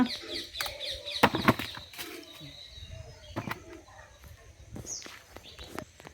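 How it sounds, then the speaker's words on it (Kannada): Scattered bird chirps and soft cooing outdoors in a farm plantation, fairly faint, with a few sharper calls breaking a quiet background. "ಆ ಪಕ್ಷಿಗಳ ಚಿಲಿಪಿಲಿ ನಾದಗಳು"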